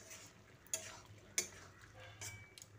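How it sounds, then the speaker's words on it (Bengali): Quiet stirring of spiced bottle gourd curry in a pan, with a couple of soft spoon taps against the side over a low simmering background, no talking. "তারপর আবারও ভালো করে মিশিয়ে নিচ্ছি।"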